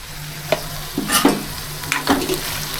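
A spoon stirs brinjal curry with salt and chilli in a hot pan, giving a few scraping, sizzling strokes over a soft, steady background hiss.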